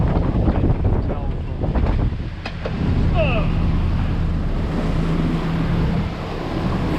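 Offshore waves wash against a Sabre 36 sailboat off Fort Pierce, Florida, a continuous rushing of water and wind buffeting the microphone, with no speech.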